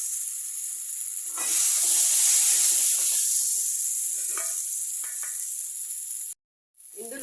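Pre-boiled Maggi noodles added to lemon garlic masala sizzle and hiss loudly in a pan, with a surge early on, brief stirring scrapes, then a short silent gap before the sizzle returns.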